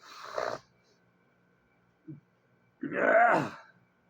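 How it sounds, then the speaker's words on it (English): A few rough, guttural throat-clearing noises, close by, separated by quiet pauses: a short one first, a tiny grunt, then a longer rasping one. "I was clearing my throat."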